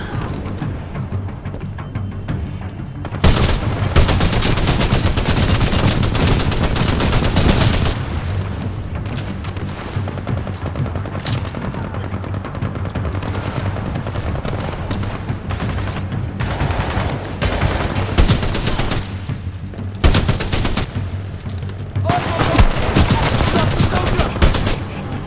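Gunfire in Titanfall 2 Frontier Defense, a loud continuous barrage of rapid automatic shots and booming impacts that runs almost without pause, with brief dips and renewed bursts, dense and close.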